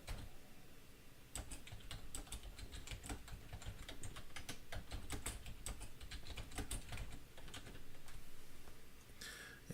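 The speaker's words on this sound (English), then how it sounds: "We're going to type in a passphrase." A passphrase is typed on a computer keyboard in a steady run of crisp keystrokes lasting several seconds, close and clear with no voices.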